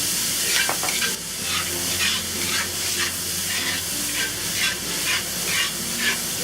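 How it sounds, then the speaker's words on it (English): A spatula stirs a sizzling mixture of green onion, seasoning salt, pepper and sesame oil in a wok, giving steady close frying hiss with rhythmic scraping sweeps throughout, no talking. "give this a good stir, about 30 seconds"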